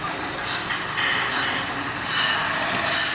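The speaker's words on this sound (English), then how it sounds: "So now you see a DC engine running there." A DC model train locomotive runs along a layout and through a tunnel, giving a steady, moderate rolling rumble with slight swells, close by and without talk.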